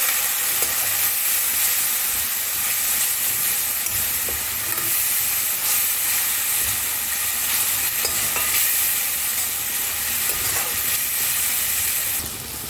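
Spice paste for a Bengali potato and chickpea curry sizzles and hisses in a hot pan after a splash of water, with a steady, close frying crackle and occasional stirring scrapes throughout.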